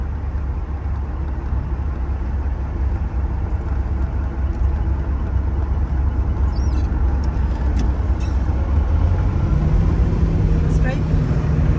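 A 1970 Chevrolet Corvette L46 convertible with a 4-speed manual cruises in fourth gear at about 40 mph, its engine a low, quiet, steady drone under continuous in-car conversation.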